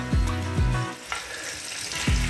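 Honey, mustard and mandarin slices sizzling in a frying pan with mackerel, a loud continuous fry broken by a few sharp clunks of the pan or utensil.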